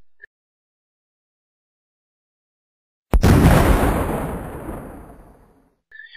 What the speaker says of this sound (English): I'll throw the flashbang.